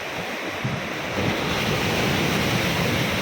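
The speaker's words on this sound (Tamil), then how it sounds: "ஆக்ரோஷமாக இருக்குங்க அலை" Heavy ocean surf roars continuously at Tiruchendur, swelling louder partway through as a big wave breaks, with wind rumbling against the microphone.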